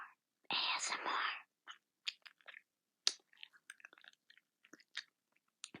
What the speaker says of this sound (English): I'm eating Starburst.